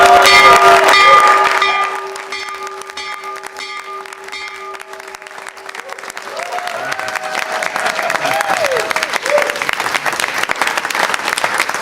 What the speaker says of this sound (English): So ring the bell